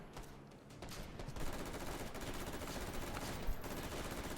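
Shotgun and other gunfire crackle in a competitive first-person shooter match, a dense continuous burst of shots at steady loudness with a brief sharper crack near the end.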